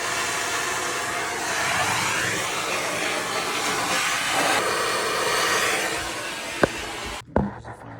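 A turbo torch roars with a steady, close hiss while brazing a replacement HVAC coil, the flame noise swelling slightly, then dropping away near the end with a sharp click and a brief clatter.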